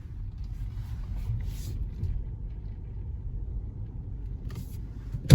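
A Korean car drives along a residential street, giving a steady low road rumble and engine hum with faint tire noise. The interior sound stays even throughout, with a brief sharp knock right at the end.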